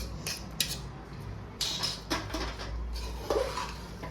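A spoon stirring a palak paneer rice mixture in a pot, with scraping and clinking against metal in a few short bursts, close and moderately loud.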